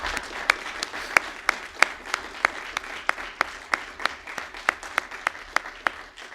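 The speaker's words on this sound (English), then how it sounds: "I'd like to just take a moment and offer a round of applause for them." A round of audience applause at a state infrastructure grant announcement, sparse and steady with individual sharp claps standing out over a softer bed, moderately distant and without voices.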